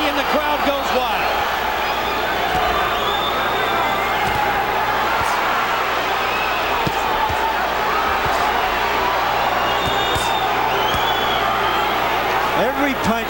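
A packed arena crowd roars steadily at a professional boxing bout between Johnny Tapia and Danny Romero. The dense cheering and whooping is loud and continuous, with a commentator talking over it.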